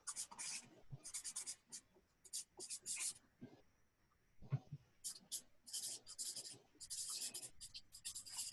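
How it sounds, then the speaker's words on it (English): Pencil or pen scratches on paper while a heart is drawn, quiet intermittent strokes in short bursts with brief pauses, close and faint, with no talking. "I'm going to draw my heart on it"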